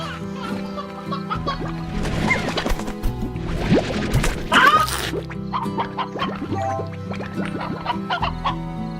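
Roosters in the video game Slime Rancher cluck repeatedly against a steady synthetic background hum, mixed with scattered thumps and crashes of game action, busy and moderately loud.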